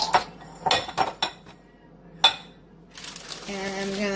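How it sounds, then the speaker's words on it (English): A package of cake mix is opened in a kitchen: a few sharp clicks and clinks, then a quiet pause, one louder snap, and finally a sustained papery rustle and tear near the microphone. "I'm going to open up this cake mix."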